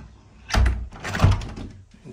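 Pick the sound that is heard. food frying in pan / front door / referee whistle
front door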